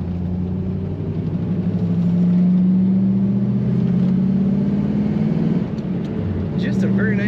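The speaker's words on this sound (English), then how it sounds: "Just a very nice running Corvette. Handles well, corners nicely." A 1975 Chevrolet Corvette convertible with a removable hard top cruises along, its engine giving a steady, fairly loud drone that swells slightly through the middle and eases near the end.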